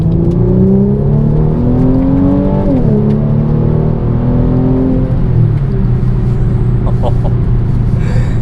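A 2016 Mercedes-Benz C450 AMG accelerates hard through the gears from inside the cabin, its engine note climbing steadily, dropping at a shift, then climbing again in a continuous loud whirring drone.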